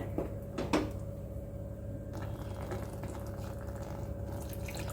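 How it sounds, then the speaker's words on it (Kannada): Steady running water with a low hum beneath, a couple of brief splashy bursts near the start, continuing evenly throughout. "ಸ್ವಲ್ಪ ನೀರನ್ನ ಹಾಕಿದ್ದೀನಿ ನೋಡಿ"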